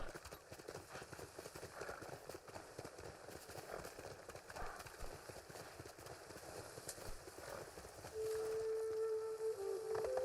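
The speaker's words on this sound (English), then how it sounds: "Too many horses." Horse hooves clip-clop in a rapid galloping rhythm in the video game Ghost of Tsushima, a steady moderate patter with game ambience, and a tone sounding near the end.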